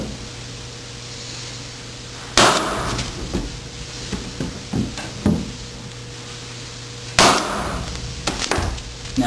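Two sharp, loud pneumatic bangs a few seconds apart as a floor stapler drives staples into hardwood floor boards above the tongue, each followed by a scatter of smaller knocks and taps against wood, under a steady mechanical hum.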